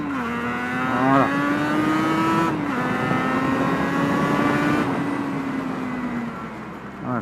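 A CF Moto motorcycle engine runs steadily and loudly up close, its drone holding near one pitch with a brief rise in revs around the second second and slight dips later, no talk over it.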